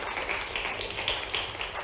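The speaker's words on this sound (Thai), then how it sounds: "เดี๋ยวขอเสียงปรบมือให้เพื่อนพี่เฉลยคนแรกหน่อยค่ะ" Students in a math class applaud together, producing a dense, steady patter of clapping that sounds somewhat muffled and moderately distant, with no talking over it.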